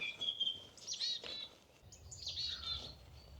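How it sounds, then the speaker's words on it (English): Faint song thrush song, a few short whistled and chirping phrases separated by pauses, heard at a distance over quiet outdoor background in the New Forest. "I think that might be a song thrush."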